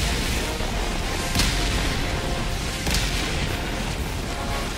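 Mortar barrage firing in the video game Helldivers 2: a dense, continuous roar of battle noise with two heavy booms standing out, one near the middle and one further along.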